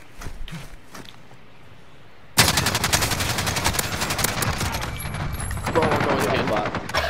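Rapid bursts of automatic gunfire in Call of Duty: Modern Warfare break out abruptly after a quiet moment, then continue as a loud, dense, crackling stream of shots.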